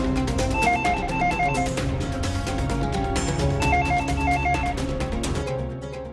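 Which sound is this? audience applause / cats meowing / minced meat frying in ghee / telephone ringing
telephone ringing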